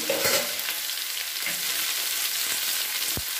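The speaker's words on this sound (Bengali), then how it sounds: "এটা ভালো করে মিশিয়ে নিলাম।" Drumstick curry with spices is stirred in a pan, producing a close crackling sizzle with soft scraping, ending in a short thud.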